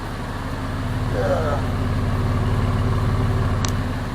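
A swapped 3.7-liter engine in a 2002 Jeep Liberty idles steadily and close by, a low even rumble that carries throughout with a brief higher squeak near the end.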